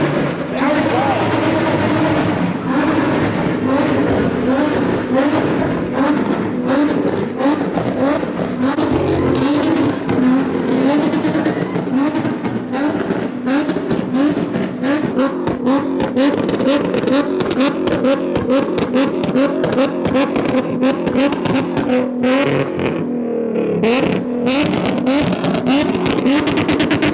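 A Mazda Miata at a car meet revs hard and repeatedly, its engine screaming up and down in rapid bursts that echo off alley walls, loud and close with crowd noise mixed in.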